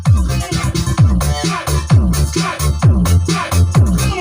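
Loud, bass-heavy music thumps through a 12-inch JBL speaker driven by an STK4122 amplifier, punchy beats repeating steadily with a full, booming low end and no voices.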